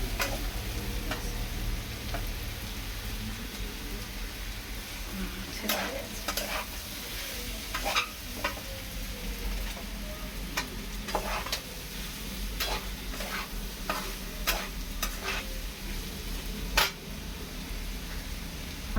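Potatoes frying in a pan for aloo posto, a continuous close sizzle broken by repeated scraping and clacking stirring strokes, with no talk over it.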